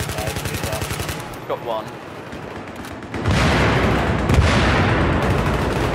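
Rapid automatic gunfire from the Battlefield 3 Operation Metro map rattles in dense bursts, first steady then heavier and louder from midway, with a player's brief voice over the shooting.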